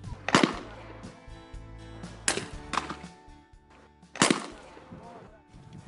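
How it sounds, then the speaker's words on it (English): Shotguns fire during trap shooting practice, three or so sharp blasts spaced about two seconds apart, each followed by quick echoing cracks, heard at moderate distance amid low outdoor background noise. "See, that's Mom shooting there."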